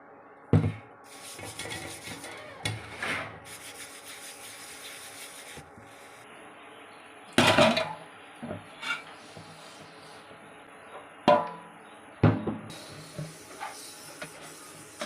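Iron wok being scrubbed clean, with scattered short rasping scrubs and scraping bursts separated by quiet pauses, close and fairly loud.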